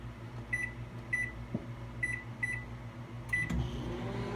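A microwave oven runs while warming yarn dye, its steady low hum carrying through, with a faint repeating high tone every half second or so and a brief clunk near the end.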